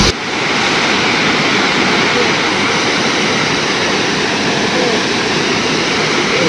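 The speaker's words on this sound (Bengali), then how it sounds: "ঝর্ণার স্রোতের এত তেজ, এত আওয়াজ" Dassam waterfall in the monsoon pours with a loud, unbroken broadband roar of rushing water, close and steady from start to finish, with a voice partly heard beneath it.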